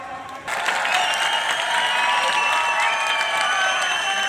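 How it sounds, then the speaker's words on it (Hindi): Loud applause and cheering erupt suddenly after a short quiet moment at a university youth festival closing ceremony, a large crowd clapping densely with some shouts, continuing strongly to the end. "जोरदार ताली।"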